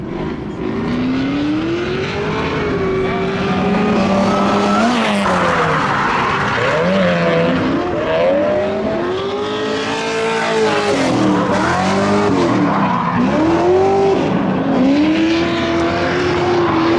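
A Mazda MX-5 laps a race track with its engine loud and close throughout, revs climbing and falling through the gears as the tires squeal through the corners.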